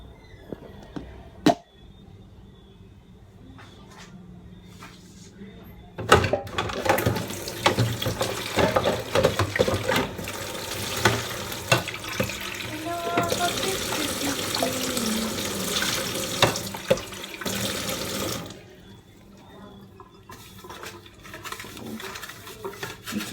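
Tap water runs steadily into a kitchen sink during washing, starting after a few quiet seconds with a couple of faint clinks, a strong continuous splashing rush for about twelve seconds, then shutting off to near silence.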